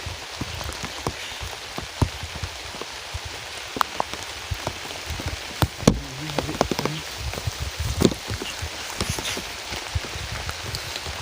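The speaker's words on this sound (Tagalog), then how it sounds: "Hindi pa rin humupa ang ulan guys." Heavy rain pours steadily onto surfaces nearby at a pig and chicken yard, a dense hiss dotted with louder splats and drips, with no voices.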